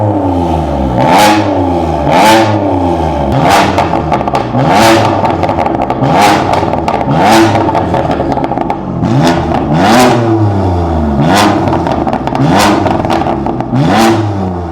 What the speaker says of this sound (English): Let's see how it sounds with the pop and bangs.